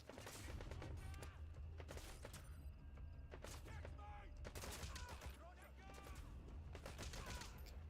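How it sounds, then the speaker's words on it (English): Heavy machine gun fire in Metal Gear Solid V: The Phantom Pain, repeated rapid bursts of loud gunshots with booming low thuds, dense and continuous across the span. "Oh my goodness, that's a heavy machine gun."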